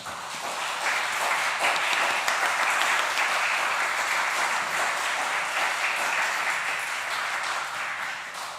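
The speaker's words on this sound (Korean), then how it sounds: "장병철 교수님께 큰 박수 부탁드립니다" Sustained audience applause for a professor about to give a public lecture, an even, dense patter of many hands clapping from start to finish.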